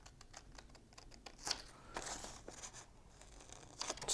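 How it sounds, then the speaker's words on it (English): Scissors snip through paper while trimming a small hanger and fine details from a butterfly light-up gift box, giving quiet, irregular crisp cuts and crinkles close by. "I'm just cutting it like this just to get this little hanger off."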